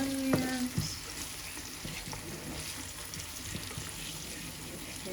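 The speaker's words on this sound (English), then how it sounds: "I'm just gonna stir that up with the onions" Tomato paste stirred into onions frying in a pot for Nigerian jollof rice gives a steady, moderate sizzle with a few soft scraping knocks near the start.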